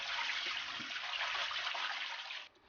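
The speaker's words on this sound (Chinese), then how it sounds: "把处理好的鱼片装入大盆中，加入适量清水，清洗干净" Tilapia fish slices are rinsed in water in a large basin, giving a steady close rush and splash of water that stops abruptly near the end.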